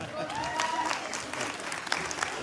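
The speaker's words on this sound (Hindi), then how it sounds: "तालियां चाहिए" Applause from an audience at a cancer hospital fundraising event in Stockholm, a steady mid-level clatter of clapping hands with some crowd noise that holds throughout.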